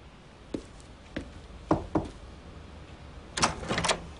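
Door handled and opened in a house, a series of distinct knocks and clunks spaced over a few seconds, followed by a cluster of rattling latch sounds, with no talking.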